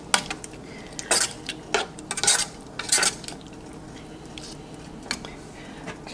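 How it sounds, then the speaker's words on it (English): A spoon scrapes and clinks against a cooking pot while peas and rice are stirred, producing irregular metallic taps and scrapes at moderate volume with quieter stretches between. "So I just stir this around."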